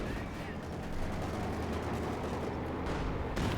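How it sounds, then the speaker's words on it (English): A tank destroyer's shot striking a Panther tank in the World War II strategy game Company of Heroes 2, heard as dense rumbling gunfire and low booms with a sharp crack near the end. "Good hit on the Panther there by the H5 tank destroyer"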